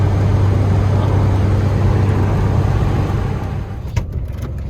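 A Peugeot 205 engine drones steadily while driving on a road trip, a loud, close, continuous low hum with road noise that eases slightly toward the end, with a few faint knocks.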